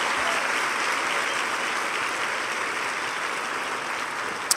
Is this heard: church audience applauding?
yes